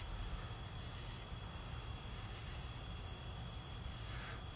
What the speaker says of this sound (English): So far it's a three cicada night.